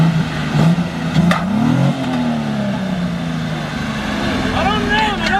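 A car engine revving hard during a burnout in second gear, a loud, close, sustained roar that rises and falls in pitch, with voices talking over it.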